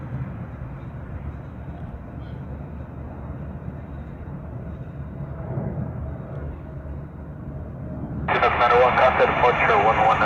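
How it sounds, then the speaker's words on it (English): A Challenger 604 business jet departs with a steady, distant roar rising slightly, then a louder broadband rush swells in near the end. "Challenger 604 is heading out now"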